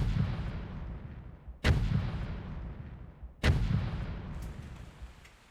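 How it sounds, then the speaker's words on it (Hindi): Three deep cannon booms go off at even intervals, each a sharp blast followed by a long, rumbling decay. "सुनाई देती है 3 तोप के गोलों की आवाज़।"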